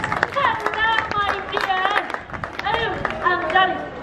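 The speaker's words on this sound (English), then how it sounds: "Yes, a round of applause," Crowd clapping and cheering at the Sword in the Stone ceremony at Walt Disney World, with sharp claps mixed among excited voices and children's shouts near the listener, in a lively outdoor theme-park setting.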